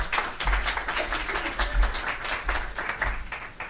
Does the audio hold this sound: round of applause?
yes